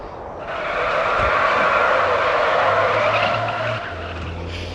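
A car drifts in the Madout2 video game, giving a sustained, loud tire skid with a steady engine drone that swells and fades slightly, with no talk over it.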